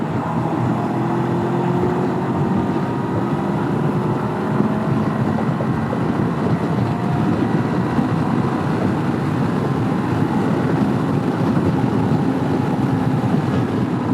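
A Honda CB500X motorcycle engine drones steadily in top gear during a roll-on, a loud continuous rising engine note heard from the rider's position, mixed with heavy wind rush throughout.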